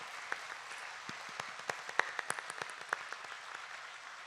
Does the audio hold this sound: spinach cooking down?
no